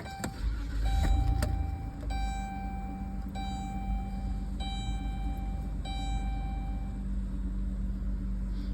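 A 2016 Dodge Grand Caravan mobility van is started, with a close rumble and a rising whir near the start, then the engine idles under repeated electronic warning chimes.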